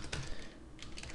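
Keys clatter on a computer keyboard while web page tags are typed into a text editor, a quiet run of soft clicks with brief pauses between bursts.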